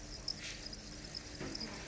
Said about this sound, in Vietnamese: Đây là con dế.